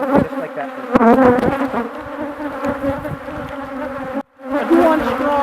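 Honey bees buzz loudly and densely at an open hive during treatment-free small-cell beekeeping, a close, continuous droning hum with shifting pitch that breaks off briefly near the end and resumes.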